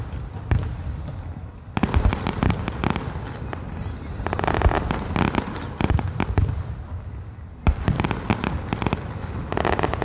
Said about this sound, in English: There are three barges on the river, and they're all setting off fireworks.